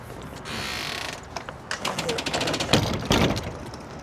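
A patio awning ram drops on a Forest River Cherokee Grey Wolf 18RR RV with a steady mechanical whir, then ratcheting clicks and a sliding metal clunk near the end, close and fairly loud, with no voices.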